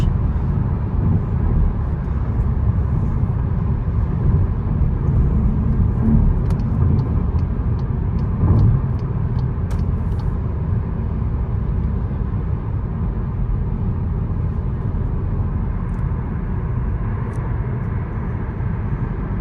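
A Cupra Formentor cruises on a highway at about 120 km/h, a loud continuous low road and engine rumble with steady wind and tyre roar from inside the cabin.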